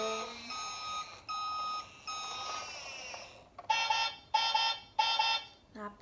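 Electronic reversing beeps from a toy construction truck with friction-driven wheels and light-and-sound effects: a stretch of steady electronic tones, then three loud, evenly spaced beep bursts close up.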